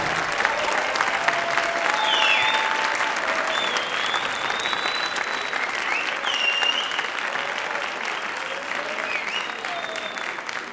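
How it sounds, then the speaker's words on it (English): Sustained applause from the audience at a middle school winter concert, dense steady clapping filling the whole stretch with occasional whoops and cheers rising above it. "Please give them another round of applause."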